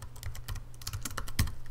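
Rapid clicking on a computer keyboard while code is entered, a dense stream of close keystrokes with brief uneven pauses and no voice.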